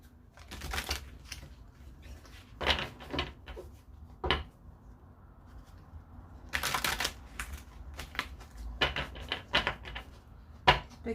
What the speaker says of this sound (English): I'll pull a card from this spiritual reading cards.